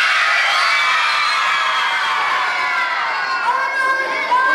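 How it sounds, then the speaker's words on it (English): A crowd of children at a vacation Bible school opening assembly shouts together in one loud, sustained roar that holds steady for several seconds before easing slightly. "on the count of three, we're gonna scream Bowser"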